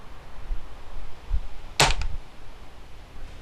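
Gunshot fired through a chronograph during a powder-coated bullet expansion test: one sharp, loud outdoor crack with a brief echo, standing alone against quiet background noise.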